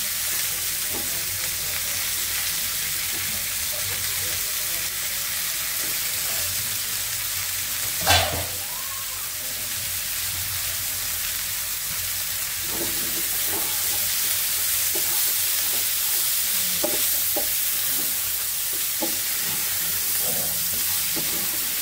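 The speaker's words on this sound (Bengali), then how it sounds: "এখানে আলুটা আগে ভেজে নিলাম, তারপর বেগুন দিয়ে দিচ্ছি।" Potatoes and eggplant fry in a pan with a continuous soft sizzle and hiss, close and fairly quiet, broken by a brief clatter of stirring and occasional light scraping.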